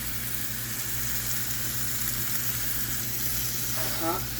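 A chuck roast sears in a P.C. Deluxe cooker, giving a steady close hiss and sizzle throughout, with a low hum beneath and a brief faint scrape near the end.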